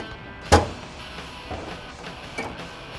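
The hood of a 1969 Pontiac GTO is opened with one sharp metallic clunk of the latch, then a few faint softer creaks and taps as it lifts, close by in a quiet setting.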